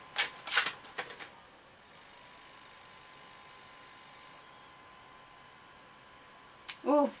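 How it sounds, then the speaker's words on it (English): Tarot cards being shuffled by hand, a few quick riffling bursts at the start and a brief flutter at the end, fairly close and soft, with quiet room hiss between. "And I'll give them one more shuffle."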